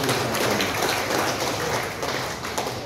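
Audience applause at a public event, a continuous broad wash of many hands clapping at steady loudness, sustained without pause through the whole stretch.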